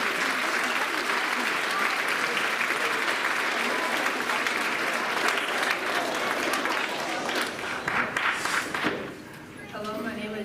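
Sustained applause from a school concert audience at a spring band performance fills the room, dense and steady for about nine seconds before fading, with a voice then starting to talk.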